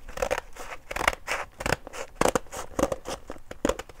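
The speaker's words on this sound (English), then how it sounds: "So I'm going to cut in the middle line." Scissors slice across paper pages in a quick run of crisp snips, about eight or nine close, evenly spaced cuts with no talking.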